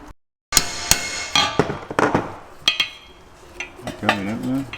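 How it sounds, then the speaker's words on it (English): Copper hammer tapping a hard bearing race into a Honda car hub, a series of sharp metallic knocks at uneven intervals, close and fairly loud, after a brief silence at the start. "Got a cheeky copper hammer so we don't damage anything."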